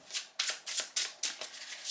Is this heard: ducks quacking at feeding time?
no